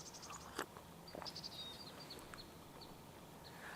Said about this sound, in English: It's just so nice to be able to hear the birds again.